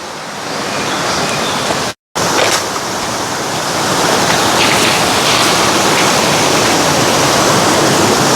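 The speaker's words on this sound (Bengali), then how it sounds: "রণদায়কের পথে পথে ঝিরি রণদায়ক ঝিরি আর যাচ্ছি হচ্ছে রণদায়ক ঝর্ণায়" A mountain stream on the trail to Rondayok waterfall rushes steadily, a dense continuous wash of water close by, with a brief dropout near the start and no voices.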